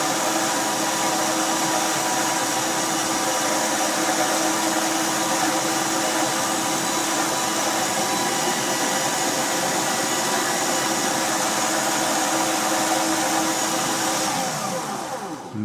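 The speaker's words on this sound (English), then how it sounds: "Finish it up with the sandpaper." A security lock pin is sanded with sandpaper, likely while spinning, giving a loud, steady whirring, abrasive hiss that runs unbroken and then tapers off at the very end.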